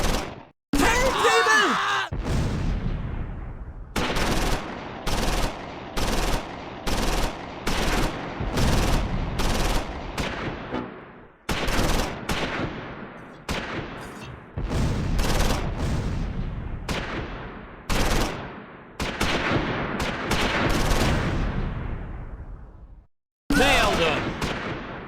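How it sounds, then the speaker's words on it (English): Medium machine gun firing in Close Combat 4 during a Battle of the Bulge fight at Manschau, loud repeated bursts of automatic fire separated by short pauses, with other battle noise between. "Becker's medium machine gun team is in position and opens up."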